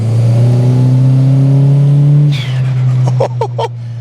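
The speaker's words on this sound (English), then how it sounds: "the turbo is definitely doing something" A Toyota Starlet Glanza V with a 1.3-litre turbo engine climbs loudly through the revs for about two seconds, then the pitch drops at a gear change and short bursts follow as it pulls on.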